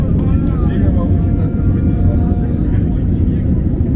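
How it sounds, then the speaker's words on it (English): A Eurowings passenger jet bound for Palma de Mallorca rolls for takeoff on runway 28, heard from inside the cabin as a loud, steady engine roar and rumble. "our Eurowings flight to Palma de Mallorca prepares for takeoff and departs from runway 28"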